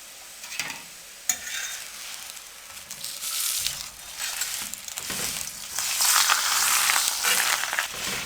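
Ghee sizzling and frying under a paratha on a hot tawa, a steady crackling hiss that swells louder toward the end, with occasional scraping and stirring noises up close.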